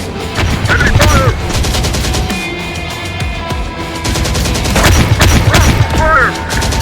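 Enemy gunfire in the video game Terminator Dark Fate Defiance, dense bursts of automatic fire and booms that rise, ease off mid-clip, then return loud, with voices calling out among the shots.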